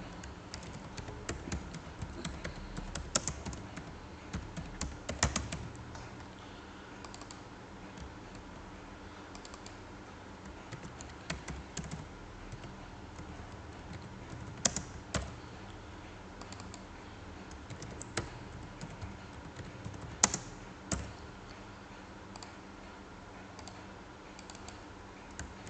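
Keys clatter steadily on a computer keyboard as text is entered, a quiet continuous patter broken by a few louder clicks from heavier keystrokes.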